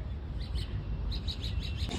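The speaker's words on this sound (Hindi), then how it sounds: "यहाँ पे देखो कितने सारे पक्षी आए, ऊपर बैठे हैं सारे के सारे" Many birds chirp in a large green park, short high tweets repeating in quick bursts from some distance over a steady rumble of outdoor background noise.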